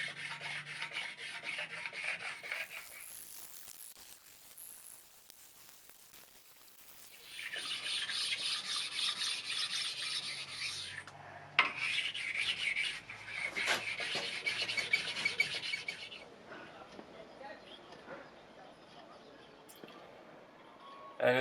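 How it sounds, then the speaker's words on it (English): Rusty machine surfaces on a Deckel GK21 are worked with a sharpening stone, giving bursts of dry rasping strokes that start and stop, close and fairly quiet, with short gaps between passes. "And then stoning the surfaces, and as you can hear, it was not only surface rust but also the surface itself was not in a really good"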